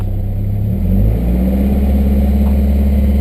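A Nissan 240SX's KA24DE engine, freshly repaired after a head gasket job, revs up, its pitch rising and then holding at a higher, steady drone, close and loud with no talking.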